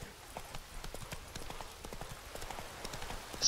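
Horse hooves clip-clop steadily in The Witcher 3: Wild Hunt video game, a quick, even rhythm of soft knocks at moderate distance over low ambient background.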